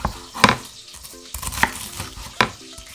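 A knife crunches through crispy deep-fried pork belly in a home kitchen, three or four distinct crackly cuts spaced about a second apart, close and fairly loud with quiet gaps between.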